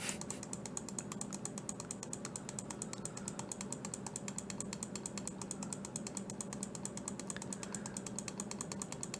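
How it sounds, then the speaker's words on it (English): Rapid, steady computer mouse clicking during an online Magic: The Gathering Modern match, close and dry with many small clicks in a constant rhythm and no voices. "But you get to hear me click my mouse a lot"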